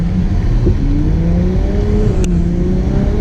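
From inside the car, a Ferrari 812 Superfast's V12 engine accelerates loud and close, its pitch climbing smoothly and steadily as the revs build.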